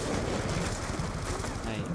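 Rapid gunfire from a zombie shooter video game, a dense, continuous barrage of shots filling the whole moment at steady loudness, with faint voices underneath.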